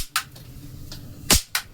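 Several sharp firecracker bursts, one much louder than the rest, popping at uneven intervals against a quiet background.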